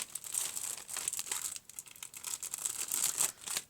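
Plastic wrapping crinkles and tears up close as a pack of 60 double-sided cards is opened, in continuous rustling bursts with brief pauses.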